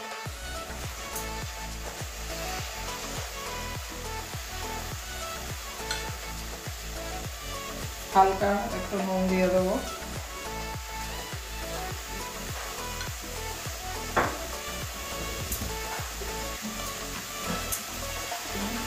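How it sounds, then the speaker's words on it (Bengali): Cabbage and potatoes steam and sizzle in a kadai, a low continuous hiss under rhythmic stirring clatter, with someone speaking briefly midway. "বাঁধাকপি আর আলুটা আগে ভাপিয়ে নেব"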